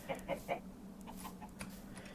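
A person imitates a hen, giving three quick clucks followed by softer, scattered clucking noises, faint and close.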